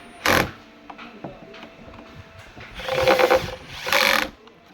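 Tightening bolts on a Yokisa massage machine: one sharp click, then two longer bursts of ratcheting mechanical whirring close by, separated by quiet handling noise.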